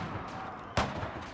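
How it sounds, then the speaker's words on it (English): One sharp, booming shot rings out from a battle between line infantry, lancers and cannons in the strategy game Victoria 3, set over a steady low rumble of distant fighting. "we can see line infantry, lancers, and cannons from the Sikh Empire, squaring off against irregular conscripts in eastern Afghanistan."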